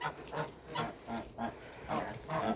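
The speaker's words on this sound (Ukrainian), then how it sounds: "Гуси вон ходять туди-сюди." Geese on a farm honk repeatedly in a loose rhythm in the evening, several calls close by, rising and falling in bursts.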